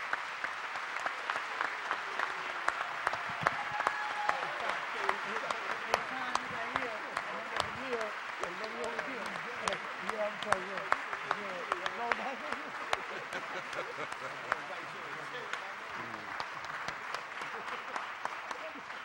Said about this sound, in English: Please give a thunderous round of applause to Brother ETAN Thomas.